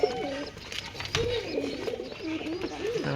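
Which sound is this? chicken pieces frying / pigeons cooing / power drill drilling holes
pigeons cooing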